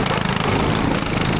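Go-kart engines racing into turn 1 in a crowded competitive pack: a close, loud, buzzy small-engine drone that pulses steadily throughout a brief burst.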